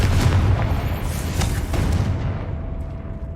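A Confringo fire spell explodes in Hogwarts Legacy with a loud, deep boom that rumbles and fades over a few seconds, alone without talk.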